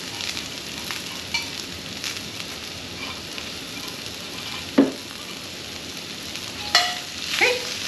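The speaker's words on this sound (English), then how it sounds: "we're just gonna saute this lightly." Ingredients sauteing lightly in a pan on a portable burner while chicken is cooked, giving a steady soft sizzle with a few brief clinks and scrapes of stirring, fairly close and with no talk.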